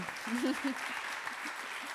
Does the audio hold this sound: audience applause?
yes